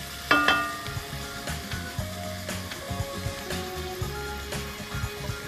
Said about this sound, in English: tomatoes also need to be, stirred and fried a bit in the oil with everything else